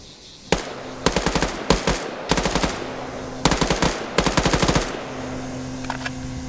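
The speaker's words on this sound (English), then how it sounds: "He's trying to shoot into it." Machine gun fire in a PvP military game, a US versus Chinese air assault VIP escort match: several loud, close bursts of rapid automatic shots with short pauses between them.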